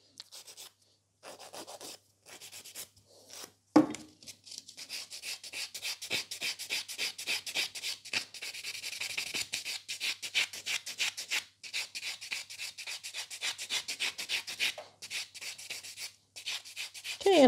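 A nail buffer rubs back and forth across fingernails, making steady close rasping strokes in quick repeated bursts with short pauses between sets, and no one speaks.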